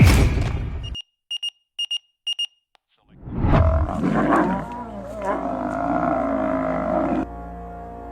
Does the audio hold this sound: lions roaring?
yes